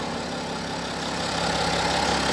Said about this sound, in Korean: 자 엔진 소리 담습니다